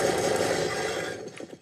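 Counter-Strike gunfire played through a computer's built-in speakers, a dense, steady rattle of rapid shots that thins out and tails off near the end, with no talking over it.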